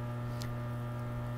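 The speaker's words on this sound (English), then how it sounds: "So this noise is from the motor." Steady electric motor drone from a single-phase-to-three-phase converter powering a Frymaster electric fryer in a shop, a loud constant low hum with strong tonal bands and no breaks.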